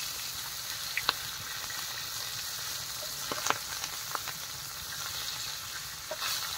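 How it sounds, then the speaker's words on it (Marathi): Fish fries in a pan outdoors in a forest, a soft, continuous sizzle with occasional faint pops and crackles and no one talking. "अशा जंगलामध्ये मच्छी फ्राय"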